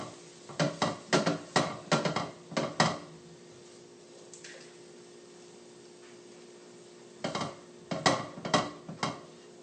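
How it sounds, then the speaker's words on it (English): Rapid metal utensil scrapes and clanks against a wok as stir-fried vegetables for fried rice are scooped out, two clusters of sharp close knocks separated by a quieter pause. "go ahead and remove your veggies from the wok or pan or pot or whatever you're using today"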